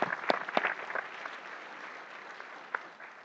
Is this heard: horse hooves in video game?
no